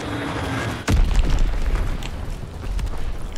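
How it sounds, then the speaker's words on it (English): An enemy bomb explodes in a WW2 video game, a sudden loud deep boom followed by a long rumbling roar of debris that slowly fades. "Enemy bomb incoming."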